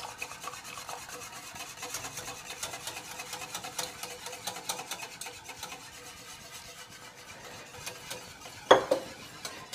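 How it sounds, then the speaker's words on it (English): Heavy cream being whisked into a veal stew (blanquette de veau) in a pot, a steady soft rubbing, scraping rasp throughout, with a sharper clink near the end. "let's now add our heavy cream to this. We'll just whisk that in."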